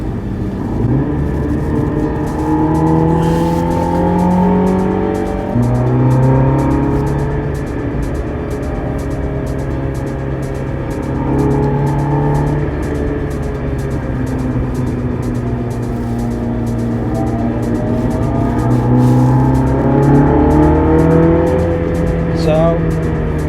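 A Mini GP3 race car laps the wet Nürburgring Nordschleife, its engine note loud and close as it climbs and drops through the gears, with a voice talking over it.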